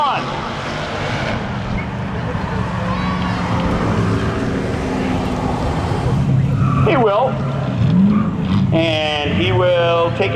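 Engines roar continuously as drag cars run at Seekonk Speedway, with a car spinning its tyres and squealing near the end amid the steady racing noise.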